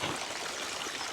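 Irrigation water runs steadily out of polypipe into a bean field, a close, even rushing wash with no pauses.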